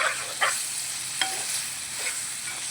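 Eggplant pieces for an Andhra-style sambar frying in a pan, a steady bright sizzle with a few quick stirring scrapes, close and unvoiced.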